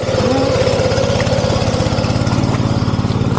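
A tractor engine labours in a muddy paddy field, a loud, close, steady rapid thumping throb with a constant drone and no voices.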